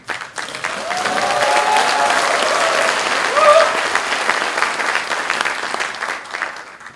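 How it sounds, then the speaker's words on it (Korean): A crowd at a Democratic Party joint rally in South Chungcheong claps warmly for a provincial governor, with dense, sustained applause close by and a few voices calling out over it partway through. "뜨거운 박수를 한번."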